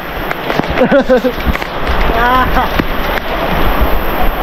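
Steady rain pours down in a neighbourhood as a heavy, continuous hiss, with excited voices of people shouting and talking over it.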